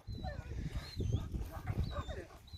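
Sheep dogs guarding a flock whimper and yip in high, wavering whines over a busy low rumble of movement and breath, close and persistent across the moment.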